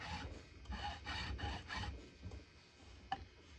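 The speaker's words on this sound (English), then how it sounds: "I'll mark my end with this sharpening file." A sharpening file is worked across a wooden handle in several rhythmic rasping strokes, quiet and close, followed by a single brief tap.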